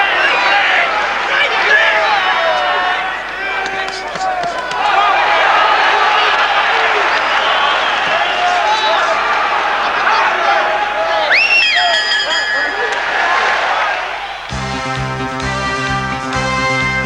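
A boxing crowd at a WBO super-middleweight bout between Chris Eubank and Thulani Malinga roars and cheers steadily, with rising swells. A commentator talks over the noise, and a bell-like electronic tone sounds near the end.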